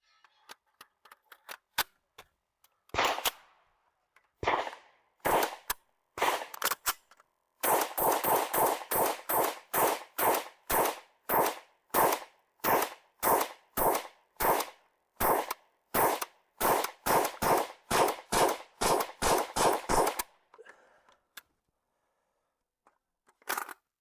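An FN P90 fires live rounds on a range, first scattered single shots, then long strings of rapid, evenly spaced sharp cracks in several bursts, loud and close, ending in silence.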